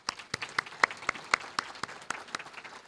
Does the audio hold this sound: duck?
no